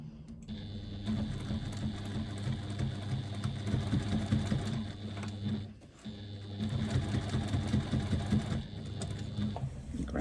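A sewing machine runs steadily up close while stitching a bag around a curve near its handle, with a brief pause partway before the rapid stitching resumes.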